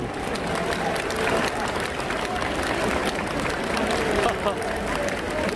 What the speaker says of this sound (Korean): 이 수레가 박수 갈채를 받는 이유는 지금 저기서 360도 턴을 했어 한 바퀴 돌았어